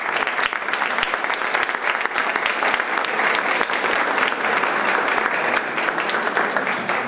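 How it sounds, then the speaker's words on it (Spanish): An audience at a 2018 Costa Rican vice-presidential candidates' forum breaks into loud, continuous applause that holds steady for several seconds. "Un aplauso."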